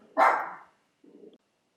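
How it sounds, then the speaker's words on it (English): A single dog barks once, loud and close, followed by a shorter, softer low yip or grumble a moment later, otherwise quiet. "Sorry about my dog."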